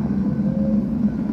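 A SpaceX Falcon 9 rocket lifts off with Crew Dragon, its engines producing a steady, muffled low rumble that holds at moderate loudness for the whole short stretch, with no voices.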